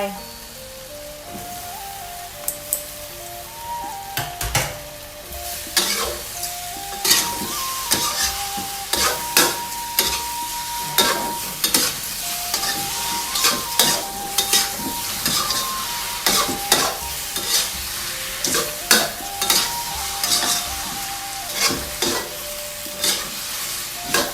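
Egg tofu and sunflower sprouts stir-frying in a pan, a continuous bright sizzle broken by frequent clattering scrapes and taps of a spatula, close and busy throughout, with no voices.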